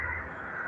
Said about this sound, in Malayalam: കാക്കകളൊക്കെ ഇതാ